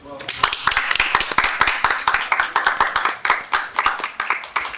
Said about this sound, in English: come on, bro, clap